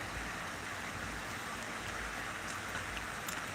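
Rain falls steadily as a soft, even, continuous hiss with no breaks, faint and diffuse throughout.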